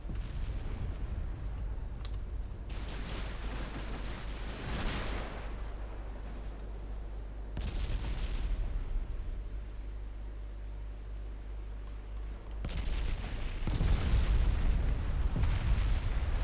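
Naval gunfire in the video game Ultimate Admiral Dreadnoughts: a few heavy, booming shots spaced seconds apart, each with a broad rumbling tail, over a low steady hum and no talk.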